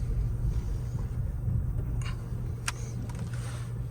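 A 2009 Toyota Prius T-Spirit hybrid creeps forward on pure electric power, giving only a faint, steady low rumble and hum with a couple of light clicks and no engine note.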